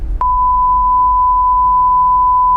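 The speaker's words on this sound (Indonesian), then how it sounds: "nanti kita bip sini alamatnya." A steady pure-tone censor beep starts abruptly after a brief moment of voice and holds unbroken and loud to the end, masking a spoken street address.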